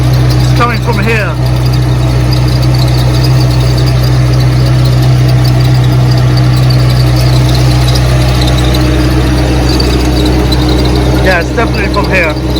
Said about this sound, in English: we've got something rattling inside of the exhaust